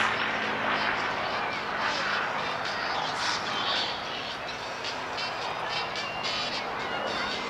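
An American WWII fighter with a Rolls-Royce Merlin engine flying at the Clacton seaside airshow, a continuous loud engine roar with a commentator talking over it.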